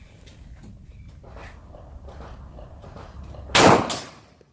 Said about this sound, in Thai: ก๊อกยี่สามเนาะขนาดกระสุน40 นะฮะจุด40สมิธแอนด์เวสสัน